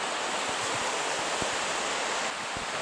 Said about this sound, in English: The raging river down there.